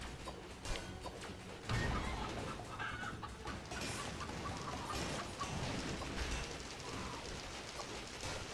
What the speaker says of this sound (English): Oh yeah, chickens.